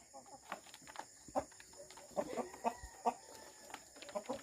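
Chickens resembling junglefowl clucking in a rural provincial yard, a series of short, fairly close clucks spaced irregularly over a few seconds, with faint background noise.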